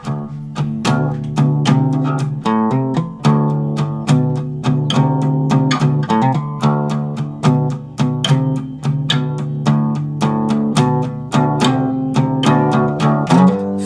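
Slow blues played on acoustic-style guitar in open D tuning, steady strummed chords with picked fills in a relaxed rhythm, close and clear with no talking.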